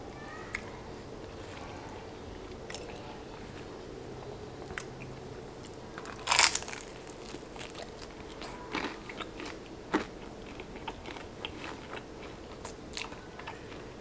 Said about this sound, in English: That crust got a crunch to it on that cheese.